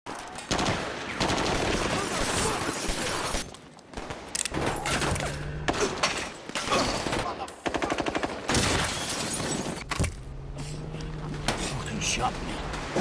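Gunfire rings out in a police ambush shootout from a movie, with repeated bursts of automatic fire and single shots layered over dense action sound and voices, loud and continuous with brief pauses.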